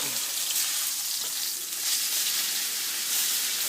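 A seasoned steak sizzles and fries steadily in a hot pan after being flipped, a close, continuous crackling hiss with no talking.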